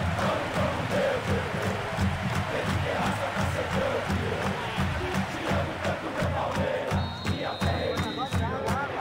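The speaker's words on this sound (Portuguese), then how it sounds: "Palmeiras enlouquece a torcida" A football stadium crowd in a PS2 football game roars and chants, a dense, loud wall of cheering that continues throughout with rhythmic pulses, joined by a commentator's voice.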